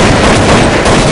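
A loud, dense burst of rapid video game gunfire in a PvP shooter fills the whole moment, harsh and continuous.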